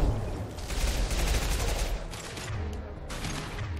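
Dense, loud gunfire and impact shots in Mass Effect 2 on Insanity, a continuous volley of overlapping shots with a brief lull before another heavy burst, close and dominant throughout.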